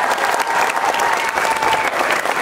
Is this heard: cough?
no